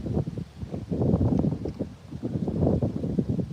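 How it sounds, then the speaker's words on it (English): Gusty wind by a shoreline buffeting the microphone in low, uneven bursts, rising and falling over a few seconds, with no voices. "Look at this wind."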